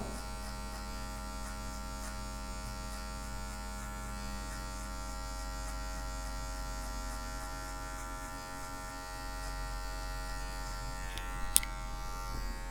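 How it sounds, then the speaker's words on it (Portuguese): An electric hair clipper trims hair while a natural fade is cut, a steady close mechanical buzz holding an even pitch throughout, with a brief sharp click near the end and no talking. "com a quina da maquininha a gente vem tirando esses cabelinhos maiores"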